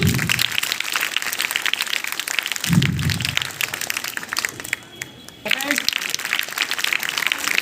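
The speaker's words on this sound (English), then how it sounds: "Now clapping." Clapping breaks out for prize winners at a school Independence Day programme, a crowd of hands patting in an uneven patter with voices and bumps mixed in, briefly thinning before resuming.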